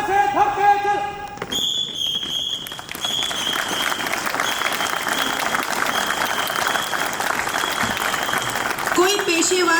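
Sustained applause from an audience for amateur performers at an Independence Day event at Chandigarh International Airport, a dense steady clapping that begins after a brief spoken bit and continues loudly to the end.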